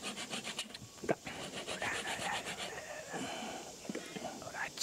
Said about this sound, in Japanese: ヤスリで整えてるんですけども